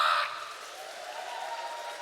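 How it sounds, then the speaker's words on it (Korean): A church congregation claps during a Sunday worship service, a brief loud burst at the start that quickly drops to softer, steady clapping from the crowd. "우리 목사님 행복하게 목회하시도록 여러분 박수라도 한번 세게 쳐요."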